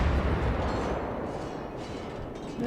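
Armour-piercing salvos from the cruiser Karlsruhe in the naval combat game World of Warships, heard as a dense, continuous low rumble of heavy gunfire with booming shots blending together at close range.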